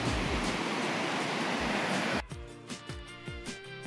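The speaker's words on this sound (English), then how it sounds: "This is Dettifoss, the second most powerful waterfall in Europe." Dettifoss, a powerful waterfall in Iceland, roars as a loud, steady wall of rushing water for about two seconds before the sound cuts abruptly to something quieter and different.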